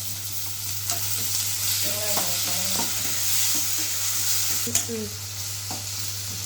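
Onion, tomato and salt sauté in a pan for a vegetable kurma, with a constant bright sizzle, a low electrical hum beneath, and scattered utensil scrapes and clicks as the mix is stirred.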